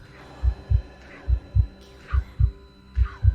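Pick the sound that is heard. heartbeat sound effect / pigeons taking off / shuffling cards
heartbeat sound effect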